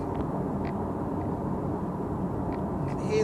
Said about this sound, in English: Hear the road noise though